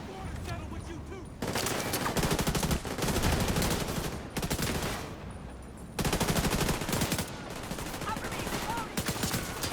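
Rapid assault rifle fire rattles in The Division 2 during a dust storm, long dense automatic bursts close and loud, broken by brief pauses, with faint talk beneath.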